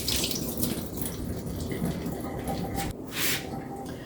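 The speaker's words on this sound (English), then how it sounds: "after I wash my fish, I'm going to dry the fish" A kitchen tap runs steadily while salmon is washed under it, giving a continuous close splash and hiss that briefly dips and then surges again.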